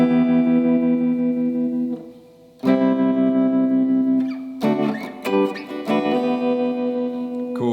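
Electric guitar chords ring out with a pulsing, wobbling tremolo effect, loud and sustained, with a short drop before new chords strike.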